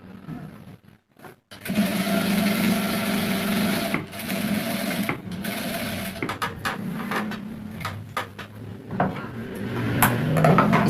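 Sewing machine running a long straight seam on a pair of pants, a steady near whirring hum with brief pauses and restarts, alone without talk.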